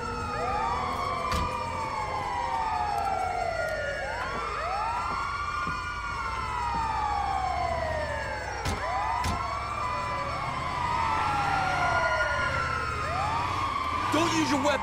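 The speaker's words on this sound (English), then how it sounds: "Oh, it's the ambulance." Several wailing ambulance sirens sweep up and down in overlapping cycles, loud and close, with engine rumble beneath and occasional voices, in the video game GTA V.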